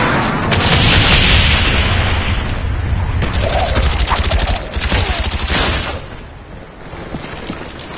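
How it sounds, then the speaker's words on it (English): A napalm strike in a first-person shooter's domination match detonates as a long, loud roaring blast with rolling fire and crackling gunfire layered over it, then fading toward the end. "Napalm strike coming in hot."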